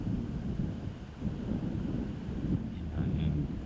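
Wind blows across an outdoor disc golf course at a professional tournament in Des Moines, making a steady low rumble and buffeting on the microphone that runs continuously throughout.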